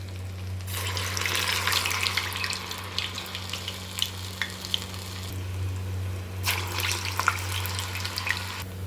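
Urad dal vada batter is dropped into hot oil, giving bursts of crackling sizzle that swell and fade over a low steady hum, with no talking.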